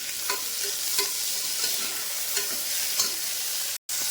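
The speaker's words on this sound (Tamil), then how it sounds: "எங்கிட்ட கொஞ்சம் பச்சை பட்டாணி இருந்துச்சு ஒரு அரை டம்ளர் எடுத்துக்கிறேன் அதையும் போட்டு வறுத்து விடுவோம்" Green peas and onion frying in a pan for ghee rice: a constant close sizzle with rhythmic scraping stir strokes every half second or so, cut by a brief dropout near the end.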